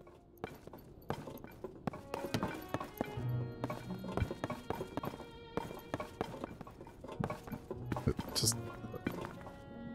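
Rapid hoofbeats of a golden horse in The Legend of Zelda: Tears of the Kingdom clatter in an irregular galloping rhythm alongside game sound effects and musical tones, with a voice speaking over them.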